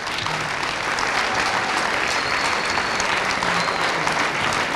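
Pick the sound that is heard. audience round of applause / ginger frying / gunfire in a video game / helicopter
audience round of applause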